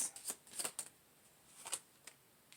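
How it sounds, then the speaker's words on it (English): Tarot cards are shuffled and drawn, giving quiet, quick papery flicks and riffles in short bursts with no talking. "Let me get one more card on this."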